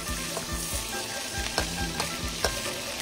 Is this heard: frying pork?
yes